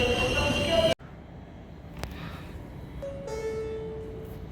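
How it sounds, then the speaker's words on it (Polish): An international train from Vienna to Wrocław, hauled by a Czech Vectron locomotive: a loud rolling rumble stops abruptly after about a second, followed by quieter station hum and a sustained tonal whine near the end. "A tu przyjeżdża pociąg międzynarodowy z Wiednia do Wrocławia."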